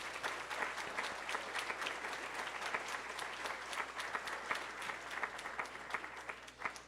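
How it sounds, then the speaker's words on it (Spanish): Steady applause from an audience honoring three panelists at a design and innovation panel, dense even clapping sustained for the whole stretch at moderate distance with no voices over it. "Les quiero brindar un fuerte aplauso a los tres."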